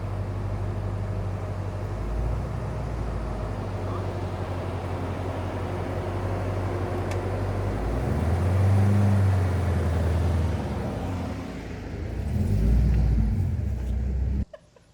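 A Corvette Z06 creeps up a steep driveway, its engine a low, loud rumble with surging throttle swells, ending in a sudden cutoff.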